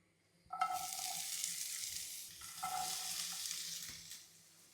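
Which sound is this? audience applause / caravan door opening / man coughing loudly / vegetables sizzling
vegetables sizzling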